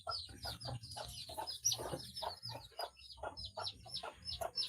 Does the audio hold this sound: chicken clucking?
yes